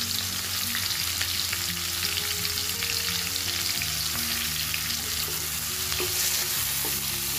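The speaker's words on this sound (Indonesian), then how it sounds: "Diaduk-aduk sampai layu, sampai matang, sampai baunya harum." Sliced garlic, shallots, green chili, galangal, bay leaf, lemongrass and tomato stir-fry in a pan with a loud, continuous sizzle, broken by steady scraping and clinking strokes of stirring throughout.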